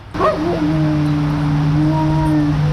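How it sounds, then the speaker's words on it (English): A Marine Corps military war dog gives a loud, close, high whimpering whine that settles into a long, sustained wavering howl-like cry, with no talk. "This is a military dog, Marine Corps,"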